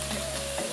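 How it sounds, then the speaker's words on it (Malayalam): Onion sautéing in a frying pan while making beef cutlets produces a brief, dense hiss of frying with a steady hum beneath it. "ഇനി സവാള ഒന്ന് വഴറ്റിയെടുക്കണം."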